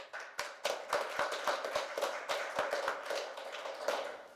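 At a Democratic congressional forum for Illinois's 12th District, a small audience claps in a loose, uneven scatter of sharp taps. The clapping stays fairly quiet and steady throughout.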